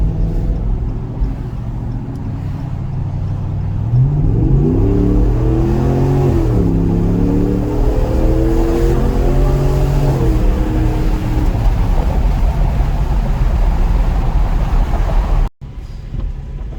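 A 2021 RAM 1500 with the 5.7L V8 and Borla S-Type exhaust, heard from inside with the windows halfway down, idles with a low rumble, then revs up through rising and falling gear pulls before settling into a steady cruising drone.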